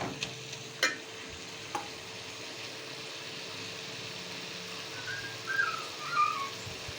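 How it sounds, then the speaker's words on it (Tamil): Banana flower chutney ingredients being sautéed in a pan, a quiet steady sizzle with occasional sharp clinks of a spatula against the metal and a faint rising whistle near the end. "நல்லா வதக்கிக்கலாம்"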